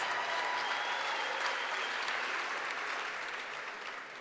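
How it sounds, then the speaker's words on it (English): A crowd applauding steadily at an awards ceremony, dense clapping that holds strong for several seconds before gradually easing off, with no voices over it. "Let's give Venezuela a round of applause."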